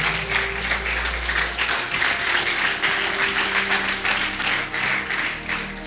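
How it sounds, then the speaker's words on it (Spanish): A church congregation applauds, steady dense clapping from many people throughout, with a low sustained tone underneath and no speech. "Alguien dé un aplauso a Dios por las cosas que él hace."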